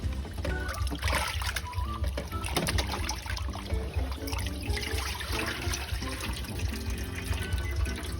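Sausage for Thai herbal grilled sausage being rinsed under a running kitchen tap, heard as a continuous close splashing stream with background sound throughout.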